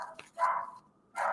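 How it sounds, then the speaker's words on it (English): Dog barks heard as two short bursts with a pause between them, fairly close and alone with no talk, following a brief faint yip. "And we got dogs barking, cats meowing"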